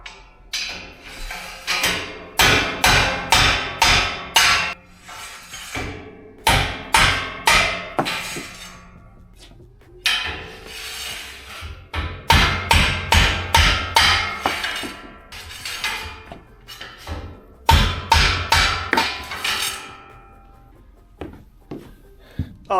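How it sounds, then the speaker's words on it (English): Nylon bushings are hammered out of torsion tubes in sharp, loud metallic blows, struck in quick rhythmic runs of several hits with short pauses between runs, close and continuous over the whole stretch. "All I'm doing here is popping the nylon bushings out of the torsion tubes."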